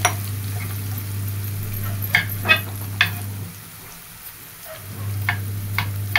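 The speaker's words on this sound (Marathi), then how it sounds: "चांगलं परतून घ्यायचं ह्याला तेलामध्ये." Vegetables sautéing in oil for a festive Bhogi vegetable dish, a soft steady sizzle with a low hum and occasional sharp clinks of a spoon stirring against the pan.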